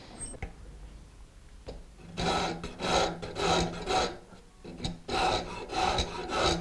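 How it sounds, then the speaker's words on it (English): A file rasps back and forth across a carved wooden ball and claw foot to smooth coarser rasp marks, sounding as rhythmic scraping strokes, about one per half second, close up, with no talk. "we want to file it and just remove some of those coarser rasp marks."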